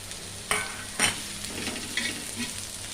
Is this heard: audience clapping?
no